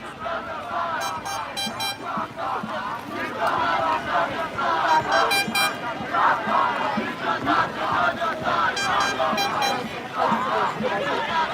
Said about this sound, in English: The noise from that hostile crowd over there